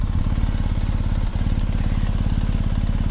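A BMW R 1250 GS adventure motorcycle's boxer engine runs close and steady, a loud, even rhythmic thrum with fast regular pulses and one brief dip midway, no voices.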